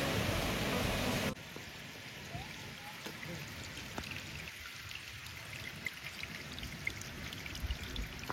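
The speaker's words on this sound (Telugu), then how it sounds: "That is our water falls అనమాట. స్ట్రీమ్ అయితే భలే ఉంది." A waterfall stream at Mulapadu keeps up a steady, broad rushing wash of flowing water throughout, louder in the first second and then even and continuous.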